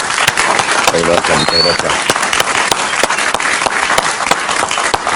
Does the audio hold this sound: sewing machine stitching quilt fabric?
no